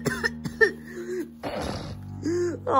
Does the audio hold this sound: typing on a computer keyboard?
no